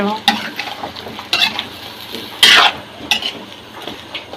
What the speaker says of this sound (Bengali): তো এটা কিন্তু ভালো করে কষিয়ে নিতে হবে, কষানো হতে থাক।